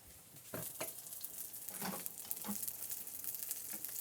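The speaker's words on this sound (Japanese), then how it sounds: "もう少しこのまま焼いていきます" A sea bream fillet sears in a frying pan with a quiet, steady sizzle, broken by scattered small crackles and pops of hot fat.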